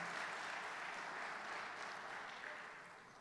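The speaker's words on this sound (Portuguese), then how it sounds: "Aplaude ele de todo o seu coração" A church congregation applauds during a Portuguese-language sermon, a steady wash of many hands clapping at moderate, slightly distant level, easing off toward the end.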